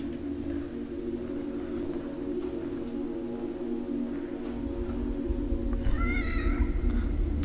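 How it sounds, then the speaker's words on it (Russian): A cat with red eyes in the horror video game The Evil Within: The Assignment meows near the end, a short drawn-out wail rising over a steady low ambient hum and drone. "Кошка с красными глазами."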